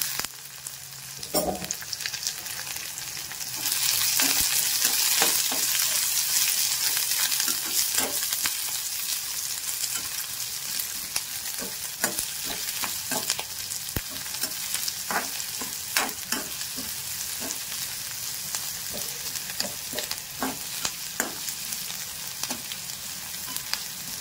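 Onion frying with cumin seeds in a pan for a sweet-sour raw mango chutney, giving a steady close sizzle broken by frequent sharp scrapes and clicks of stirring throughout.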